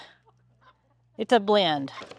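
Farm hens cluck over special treats, giving a few short nearby clucks and squawks after a near-silent start, with faint background hum.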